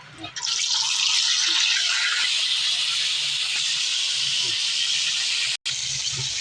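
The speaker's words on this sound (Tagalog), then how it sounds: "Prito tayo ng tilapia." Loud, steady sizzling and hissing of tilapia frying in hot oil in a wok, a dense crackle that continues without a break.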